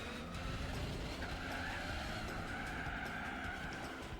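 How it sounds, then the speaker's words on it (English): A car braking and skidding in the Gran Turismo 4 racing game, with a steady engine drone and a sustained tire squeal running under it. "Start hitting the brakes."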